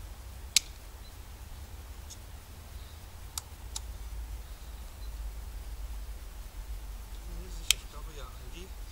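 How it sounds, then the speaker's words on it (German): Cheap garden shears bought at Aldi snip through wire in the woods: a few sharp, isolated clicks spaced several seconds apart over a steady low outdoor hiss. "Da ist also nichts Schlimmes dran, wenn ich damit hier Draht schneide."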